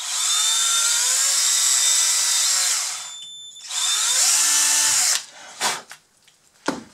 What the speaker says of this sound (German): ich schraube jetzt erstmal das hintere fest